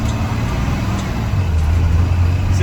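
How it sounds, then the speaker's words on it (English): A 2019 Blue Bird Vision school bus with a Cummins ISB 6.7L diesel engine lugging under load, a loud, heavy low drone that deepens and swells slightly toward the end, heard from inside with no talking. "think it's just lugging the engine real bad."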